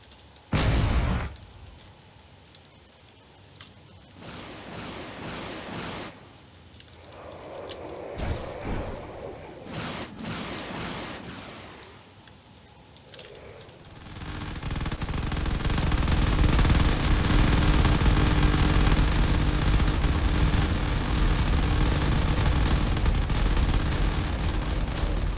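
Gunfire and explosions in a drone combat video game, starting as scattered bursts with quieter gaps and building into a heavy, sustained roar of shots and blasts through the second half.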